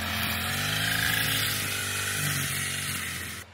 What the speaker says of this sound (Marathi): बाबलो पण थोडे ग्रास कटर मारता रान आलेलं आहे त्याच्यावर.